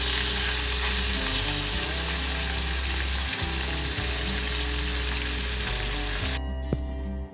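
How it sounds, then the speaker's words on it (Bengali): Fish pieces frying in hot mustard oil, a loud continuous close sizzle with bubbling and occasional stirring, cutting off abruptly near the end. "তেলটা গরম করে নিয়ে মাছগুলো আমি তেলে দিয়ে দিয়েছি মাছগুলো ভাজার জন্য।"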